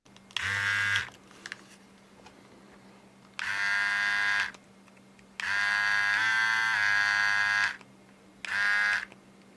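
A Philips QC5380 electric trimmer, its blade freshly oiled, runs in four separate bursts of sharp, steady buzzing, switched on and off with quiet gaps between, close and fairly loud.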